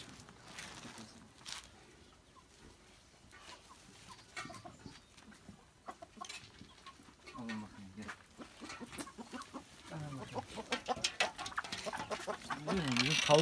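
Chickens cluck and chatter close by, growing busier and louder toward the end, with a person speaking faintly at times; they are being fed chicken bone broth.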